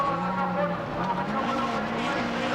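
A four-cylinder 16-valve rally car engine snarls close by, its pitch climbing and dipping as it revs hard, with faint commentary underneath, at a 1990 race.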